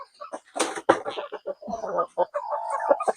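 Pet chickens and chicks cluck and peep close by in short, busy bursts, with a few soft voices mixed in among the calls.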